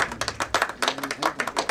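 An audience at a film music launch claps in an uneven, rhythmic burst of separate hand claps, fairly close and steady, with no one speaking over it.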